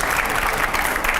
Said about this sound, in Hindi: तालियां प्लीज यहां पर।